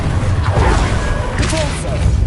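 The Incendio fire spell cast in the video game Hogwarts Legacy on PS5 gives a dense, close burst of whooshing, crackling effects with a few brighter flickers, loud and steady throughout.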